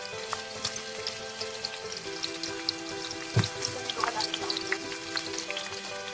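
Onion frying in a pan for chicken curry, a busy crackling sizzle with scattered pops and a brief louder clatter of stirring partway through, continuous and close.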